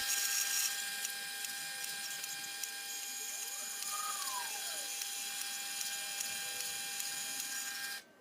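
A bandsaw running at its fastest speed cuts through 20mm aluminium with a steady, loud mechanical whine and hiss that holds for about eight seconds and then stops abruptly.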